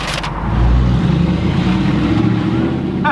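A straight-piped Audi R8 exhaust roars loudly and close by, a deep rumbling drone that swells briefly early on and then holds steady, with faint voices underneath.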